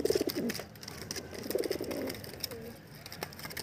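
Pigeons in a loft of Madras birds for sale give soft, low cooing in two main bursts, moderately close and not loud, with faint background noise between calls.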